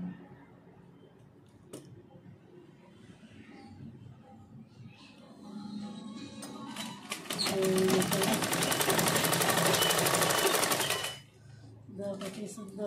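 A sewing machine stitching a churidar runs in a fast, steady mechanical whir for a few seconds, with softer handling clicks and rustles before and after, and someone talking at times.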